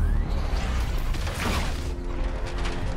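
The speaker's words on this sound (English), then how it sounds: "Battle mode." The Batmobile in a Batman video game shifts into battle mode, a dense, loud run of mechanical whirring, ratcheting and clanking parts that churns steadily for three seconds.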